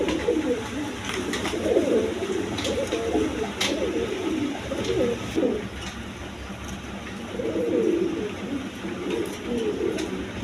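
Pigeons in a loft that is selling pigeons with eggs and chicks coo in repeated soft throaty bursts, close and moderately loud, while a breeding pair feeds its chicks, over a steady background hum.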